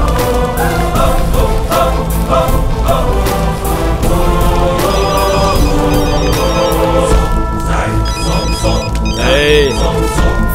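A telephone rings repeatedly with bright, trilling electronic tones over loud background music, continuing steadily without pause.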